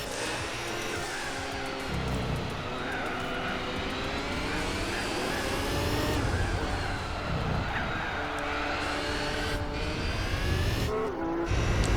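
A McLaren race car engine in Gran Turismo 4 screams continuously at high revs, its pitch rising and dropping through gear changes, loud and close with no voices.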